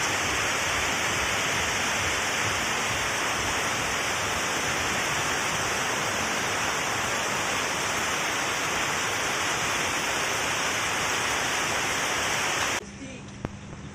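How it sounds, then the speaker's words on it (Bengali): Steady rain pours down in a dense, even wash of hiss that holds unchanged for about thirteen seconds, then cuts off abruptly near the end. "বৃষ্টি আরম্ভ হয়ে গেল বলতে বলতে বৃষ্টি হচ্ছে"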